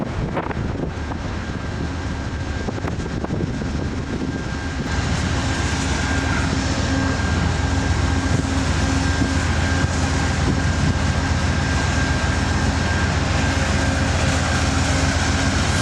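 Amtrak P42DC diesel locomotive number 161, painted in Phase 1 livery for Amtrak's 50th anniversary, rumbling past with a steady loud engine drone and wind buffeting the microphone, swelling after a few seconds and holding strong.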